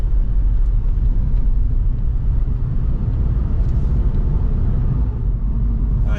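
A Kia Rio GT cruises along an open country road, heard from inside as a steady, loud, low rumble of engine and tyre noise that stays even throughout with no talk.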